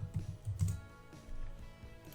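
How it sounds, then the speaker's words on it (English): Soft, close keystrokes tap on a computer keyboard in short irregular bursts, quiet and unaccompanied by talk. "Now I'm going to start typing the instructions."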